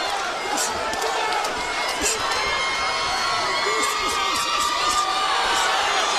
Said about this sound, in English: And the chant going up from the crowd.